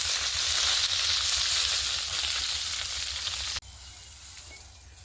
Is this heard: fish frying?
yes